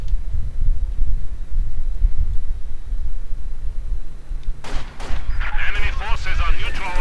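Artillery and gunfire in a Company of Heroes 2 1v1 match, with Soviet troops advancing into German Panzer Grenadier fire: a low rumbling battle bed, then sharp bursts of shots and impacts in the second half, under a voice talking.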